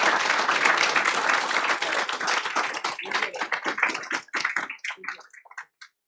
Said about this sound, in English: big round of applause for all of the Benicia Middle School employees